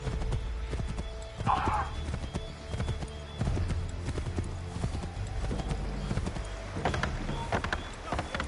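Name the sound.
horses galloping, from video game Assassin's Creed III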